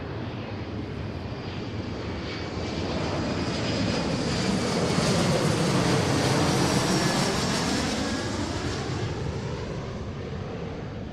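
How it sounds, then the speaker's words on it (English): A jet airliner roars down runway 34 right on its takeoff roll, a loud broadband engine rumble and hiss that swells toward the middle and stays heavy and continuous, heard from a distance with no voices. "runway 34 right, clear for takeoff"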